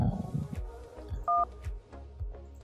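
Short DTMF dialing tones from a SIP softphone call to Zoiper on a FreePBX VoIP setup, a quick sequence of distinct beeps over quiet background hum.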